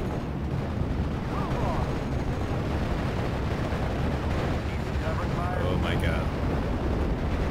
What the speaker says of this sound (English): We need to call in some artillery support by now.